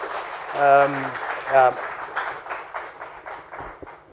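A voice speaks briefly, then a lecture audience breaks into scattered, moderately loud applause.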